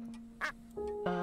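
A duck gives a few short, nasal quacks over a steady electronic hum, close and fairly quiet, with a brief sharper burst near the middle.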